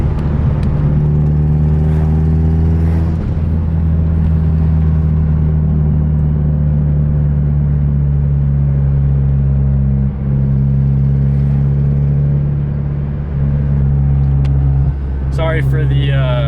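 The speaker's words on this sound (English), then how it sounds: "I'm driving right now and my cousin is right in front of me with his Subaru STI." A Subaru STI drives ahead of a twin-turbo Mazdaspeed 6 with a loud external wastegate on the road, heard from inside as a loud steady engine drone with humming road noise, under speech throughout.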